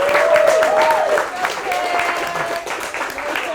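Applause from a small team gathered for a company meeting at a marketing agency, a dense patter of clapping that runs throughout with a voice talking over it.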